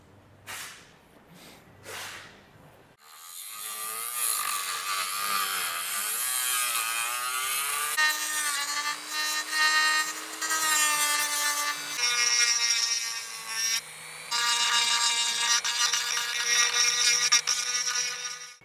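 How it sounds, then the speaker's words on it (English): A Dremel rotary tool trims and sands a plastic dash mount in a Toyota Tacoma, giving a steady high whine that shifts pitch as it cuts, after a few brief taps at the start. "get like the Dremel out or something, and I'll trim that and sand it so that it's nice"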